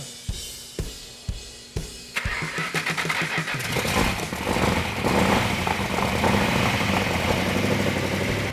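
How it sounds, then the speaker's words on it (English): A 1970 Challenger's starter cranks in several evenly spaced bursts, then the 446 engine catches and roars, settling into a loud, rough, steady running rumble. "The 446 back engine fired right up"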